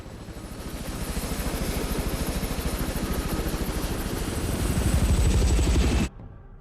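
Helicopter in the Hitman 3 video game, a steady loud rotor chop with engine whine that builds slightly in volume before cutting off abruptly, no talking.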